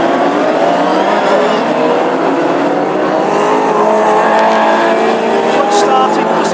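Classic hot rod race cars on Avon race tyres launching at the start of a heat at Birmingham, a loud sustained roar of several engines revving hard with tyre noise, while a commentator talks over the din.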